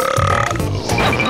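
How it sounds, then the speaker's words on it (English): A cartoon character lets out a loud, close burp, drawn out over about a second with a gravelly low rumble. A voice actor produces it. "But we'll miss the turtle girl burping contest!"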